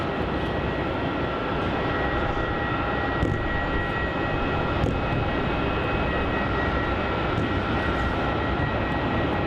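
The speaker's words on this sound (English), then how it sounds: "just taxiing out towards runway 16, we're going to get a heavy takeoff on runway 16" Qantas A330-200 jet airliner taxiing at Melbourne Airport, a steady loud engine roar with a whining hum that holds constant, heard from nearby without speech.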